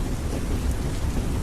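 Steady rain with a low rolling rumble of distant thunder, a dense continuous hiss beneath a deep murmur, fairly loud and without voices.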